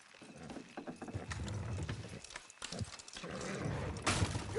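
Horses' hooves in Red Dead Redemption 2, a busy clatter of clip-clop steps and creaking tack moving close by, with a louder burst near the end.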